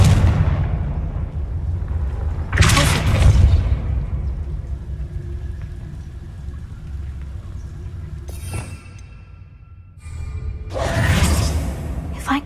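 A Confringo fire spell cast in the video game Hogwarts Legacy, heard as a few loud whooshing, explosive bursts separated by quieter rumbling stretches.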